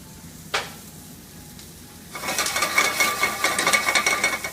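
Shallots and garlic hit a warm pan and break into a steady, close crackling sizzle that starts abruptly partway through after a single sharp clink, with no one talking.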